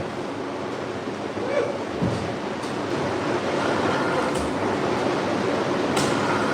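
A roller pressed across a heavy, dirty Chinese wool rug squeezes water out with a steady, wet broadband rush that runs close and continuous.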